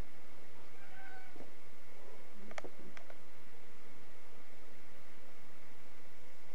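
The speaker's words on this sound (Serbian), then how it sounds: "Vidite mace, mama," A cat gives two short, faint meows in quick succession over a steady background hiss, with quiet stretches before and after.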